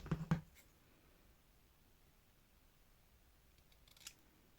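Scissors snip a small paper craft tag, a few quick close cuts at the start and one more snip near the end, with quiet pauses between.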